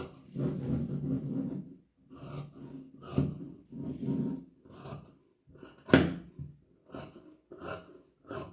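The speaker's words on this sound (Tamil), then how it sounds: "இப்போ இது நம்ம வந்து கட் பண்ணி எடுக்க போகிறோம்." Scissors snip through fabric being cut for a patiala pant in a tailoring session, giving a string of crisp, close cuts with brief pauses between strokes and no talk.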